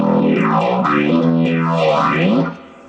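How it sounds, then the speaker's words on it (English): Overdriven bass guitar notes through a Zoom B2, with a sweeping phaser after the drive rising and falling, played alone and fading out at the end. "And there's our phaser, you can hear happening."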